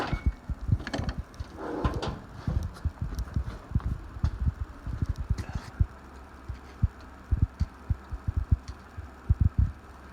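A rebuilt Murray flathead small engine idles too low, chugging in slow, uneven low thumps with occasional faint clanks, fairly close and moderately quiet.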